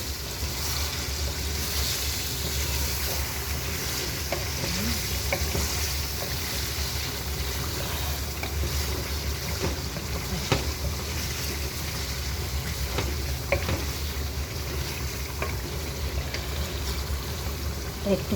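Meat fries without water in a pan and is stirred now and then, giving a steady broadband sizzling hiss with faint scraping clicks at moderate loudness.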